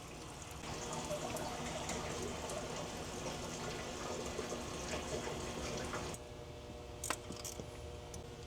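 Coolant runs in a steady, gushing stream as it drains from the turbo coolant line of a 2025 Honda Civic Type R. The flow holds constant and close for about six seconds, then drops off into fainter trickles and a few sharp drips.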